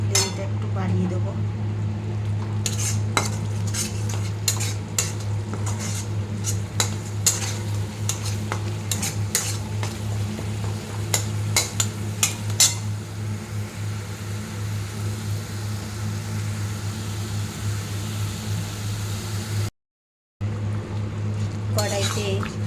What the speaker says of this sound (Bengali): এবার মশলাটাকে আরেকবার ভালো করে নাড়িয়ে নিচ্ছি।